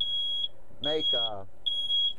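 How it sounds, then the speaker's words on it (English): A high-pitched smoke alarm chirps in steady repeated beeps, briefly interrupted by someone speaking close by. "That's my smoke alarm, ladies and gentlemen."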